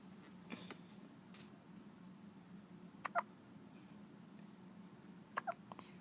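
A baby hiccups softly in a quiet room: a few brief, gentle hics come at spaced intervals, some in quick pairs.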